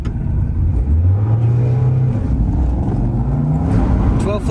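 A Mazda Miata with a fresh 1.8 engine accelerates hard down an eighth-mile drag strip, its engine note climbing steadily and loudly through the gears, with rising whine and wind roar close to the car.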